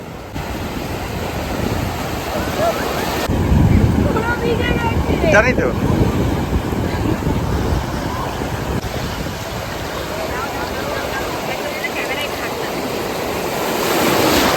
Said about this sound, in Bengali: ঢেউটা আসুক, দেখো।